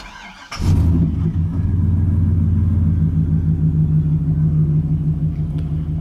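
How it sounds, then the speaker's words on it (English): A 2003 Chevrolet Silverado 2500 6-liter V8 engine cranks and fires up, then settles into a deep, loud, rumbling idle that holds steady. "now let's go ahead and start the engine"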